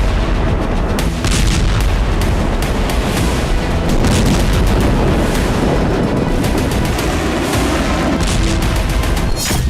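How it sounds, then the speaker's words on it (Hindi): Heavy bomb blasts and booming artillery roll across Lebanon during Israeli airstrikes, with repeated thuds over a dense, continuous roar that stays loud and saturated throughout. "जमीन पर बम धमाके हो रहे हैं।"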